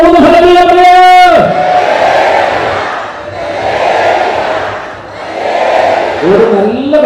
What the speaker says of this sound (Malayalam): വിശ്വസിക്കുന്നവരെല്ലാം നല്ല ശബ്ദത്തിൽ ഒരു ഹല്ലേലൂയ പറയും.